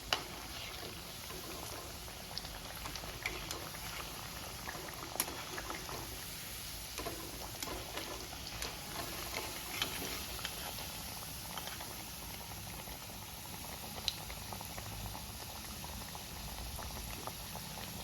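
Chicken chutney kebabs frying in oil, a steady, even bubbling sizzle that carries on without pause from start to end at a moderate level.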